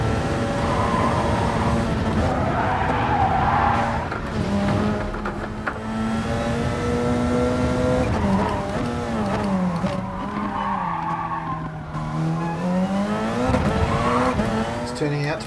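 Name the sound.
race car driving and tire skidding in Gran Turismo Sport video game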